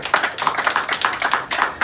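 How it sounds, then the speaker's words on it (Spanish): A church congregation claps in praise during a service, quick sharp hand claps in a lively, slightly uneven rhythm that stay close and loud throughout. "Dele palmas al Señor."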